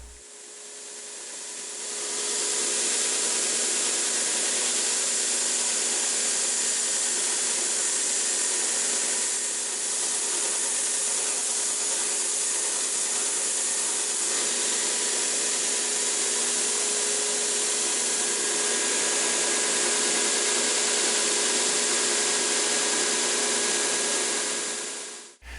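A worn sanding belt on an edge sander grinds against glued-up wood, a steady, loud abrasive hiss and whir running continuously with no talk.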